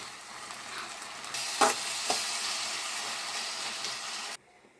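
Fenugreek leaves fry in a pan with a moderate steady sizzle and a couple of sharp stirring scrapes midway, then the sound cuts off abruptly near the end.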